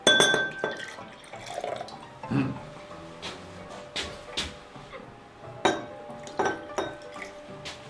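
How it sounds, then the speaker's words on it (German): A butler pours drink into a glass at a formal birthday dinner, with a series of glassy clinks and splashy liquid bursts recurring across the stretch, fairly close and without talk. "James, du alter Geizknochen, mach voll das Glas"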